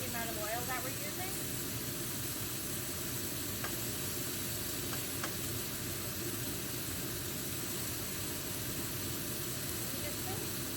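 Gluten-free chicken fingers fry in a pan with only a little oil, giving a steady, dense sizzle and hiss that holds unbroken throughout, close and moderately loud.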